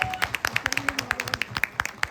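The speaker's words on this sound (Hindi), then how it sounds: "थोड़ी तालियां होती जोर की बजा दे तो मजा आ जाएगा" Light, sparse clapping from a few hands at a Delhi press conference after a film trailer, with about twenty separate claps in quick irregular succession and no voices.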